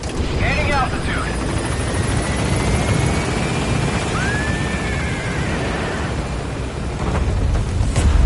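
A helicopter lifts off from a landing zone in Metal Gear Solid V: The Phantom Pain, its rotor and engine a loud, continuous roar with a rising whine, while a voice talks over it.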